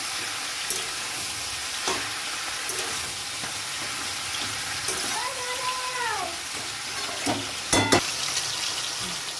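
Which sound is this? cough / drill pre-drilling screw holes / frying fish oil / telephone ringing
frying fish oil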